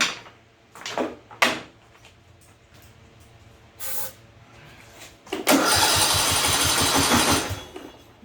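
A John Deere D110 lawn tractor with a Briggs and Stratton engine that has no compression cranks over fast without starting, a rapid rhythmic churning that follows a few scattered clicks and clunks.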